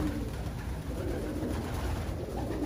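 Racing pigeons at an auction in Taiwan, cooing softly in the background against a steady hiss of room noise, faint and continuous with no other clear sounds.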